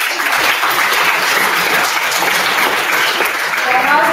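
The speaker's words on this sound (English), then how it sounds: "Another round of applause to this entire panel." An audience gives a round of applause to a conference panel at an executive development program event, loud dense clapping throughout with some voices mixed in beneath.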